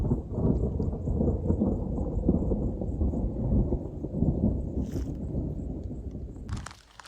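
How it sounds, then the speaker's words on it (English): Thunder rolls through the Dolomite mountains on the Alta Via 1 trail, a long deep continuous rumble with rain falling, then cutting off near the end. "Final descent in our rain gear because the thunder is rolling behind"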